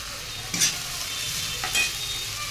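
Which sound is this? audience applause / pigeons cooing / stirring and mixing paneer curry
stirring and mixing paneer curry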